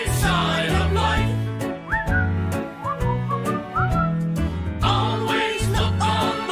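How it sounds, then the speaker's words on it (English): Melodic whistling in a comedy song, a few gliding whistled phrases riding over a steady band accompaniment of bass, chords and percussion. "Just purse your lips and whistle, that's the thing."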